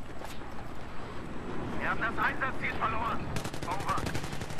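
Battlefield 3 multiplayer gunfire rattles in repeated bursts, including a fast automatic volley near the end, loud and close under steady talking between players.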